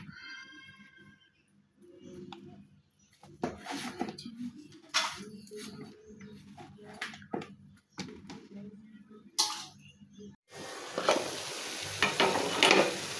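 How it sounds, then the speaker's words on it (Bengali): Bottle gourd peel stirs and sizzles in a pan with intermittent scraping and soft frying crackle, ending in a louder steady sizzle as it settles into the heat. "তো যেখানে ছিলকা ভাজিটা বসাই দিলাম, লাউ ছিলকা ভাজি"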